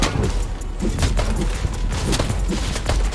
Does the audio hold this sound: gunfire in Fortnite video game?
yes